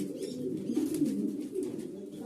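Beauty homer pigeons at a pigeon farm give soft, low, overlapping coos that roll on continuously, close and fairly quiet, with no talking.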